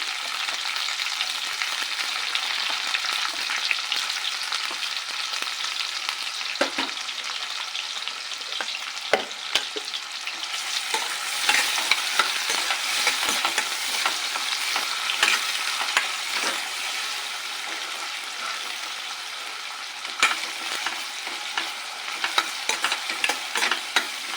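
Chopped onions frying in a pan, a bright steady sizzle with occasional stirring clatters and scrapes, close and continuous for the whole stretch, no talking.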